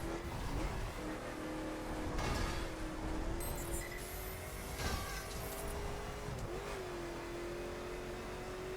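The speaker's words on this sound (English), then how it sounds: "I can hear that Ferrari F12 engine sound." A Ferrari F12 engine in The Crew racing game revs and accelerates through gear changes, a steady mid-pitched engine note rising and dropping repeatedly, clear and continuous throughout.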